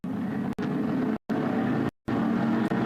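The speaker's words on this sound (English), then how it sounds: "The revs begin to rise," GT race car engines rev at a race start at Paul Ricard, a loud continuous drone of low engine tone broken by brief dropouts.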